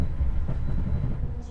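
The Argo Bromo Anggrek express pulls into Semarang Tawang station, a steady low rumble of wheels and carriages heard from on board, close and continuous.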